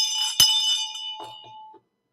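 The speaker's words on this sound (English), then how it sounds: "ring the bell one time for Rakesh" A single bell is struck once, a clear bright ring that hangs and fades over about a second and a half, with a faint voice at the tail and then silence.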